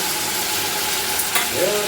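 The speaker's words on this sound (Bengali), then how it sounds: "তো দেখতেই পেলে আমি ওদিকে আলু ভেজে নিচ্ছি।" Potatoes fry loudly in a pan, a close, dense, steady sizzle with stirring throughout and no talk.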